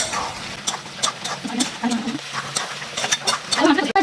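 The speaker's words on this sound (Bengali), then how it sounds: "ভালোভাবে মাংসটা কষে নেব।" Spiced chicken being stir-fried in a pan with cumin, coriander and Kashmiri chilli powder, giving a steady close-up sizzle with repeated scraping and stirring strokes.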